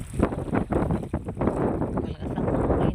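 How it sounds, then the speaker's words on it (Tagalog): Strong wind buffeting a microphone on a small boat out tuna fishing, a loud, continuous rough roar with gusty surges and no speech. "malakas ang hangin."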